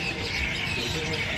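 Birds chirp and coo outdoors at dusk in Thailand near a night market, steady and moderately loud amid dense ambient noise, with no voices.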